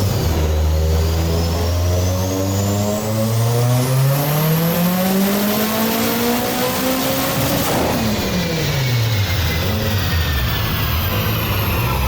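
Boosted 20v engine in a Badger 5 car revving hard on a dyno, loud and close, pitch climbing steadily for several seconds before dropping sharply as the throttle closes.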